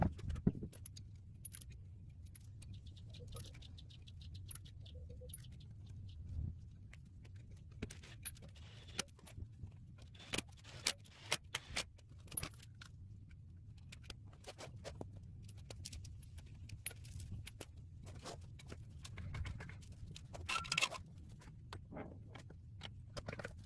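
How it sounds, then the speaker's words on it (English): A Toyota Tacoma wheel with 33 inch tires goes onto the studs over 1.25 inch wheel spacers, heard as faint, scattered metallic clinks and rattles in a quiet setting. "now we can go ahead and mount the wheel."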